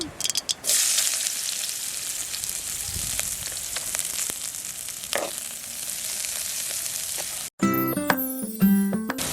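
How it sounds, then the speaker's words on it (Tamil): Mustard seeds and onion frying in hot oil in a Jaffna-style cooking setting, a steady loud sizzle with crackling pops, ending in a short burst of sharp metallic clinks. "எண்ணெய் கொதிச்சோடனே கொஞ்சம் கடுகு போட போகிறோம். வெங்காயம் போட போகிறோம்."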